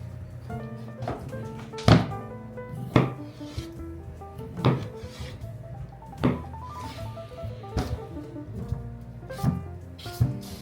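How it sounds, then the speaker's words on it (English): A knife chops Wagyu top round beef into cubes on a wooden board, with a series of sharp, evenly spaced thunks against the wood and light scraping between them. "So we're gonna cut them into cubes."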